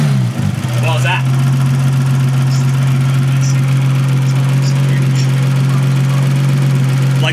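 An RB30E+T turbo engine runs at a steady, loud idle, with a brief throttle blip near the start and a constant droning hum throughout.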